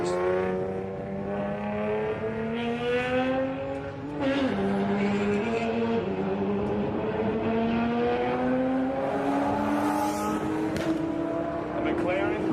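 A McLaren runs a quarter-mile drag strip at the TX2K21 event, its engine note climbing through the gears as it passes close and loud, with the whine shifting in pitch over several seconds.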